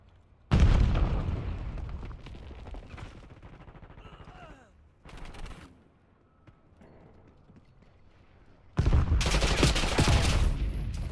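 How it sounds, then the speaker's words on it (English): Loud bursts of video game combat, a grenade blast followed by gunfire, come in three heavy waves separated by quieter gaps. "Watch out, grenade."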